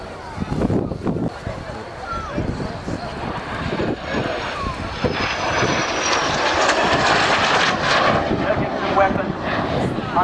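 A propeller aeroplane engine drones and builds steadily overhead at an airshow, loud and continuous, with someone talking over it.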